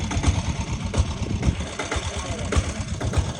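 A rough single-cylinder chhakda rickshaw engine idles nearby with a steady, thumping putter and a slight knocking rhythm, running alone without voices.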